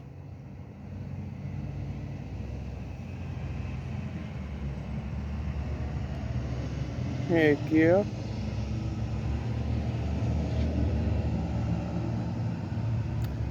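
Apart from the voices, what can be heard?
school bus driving past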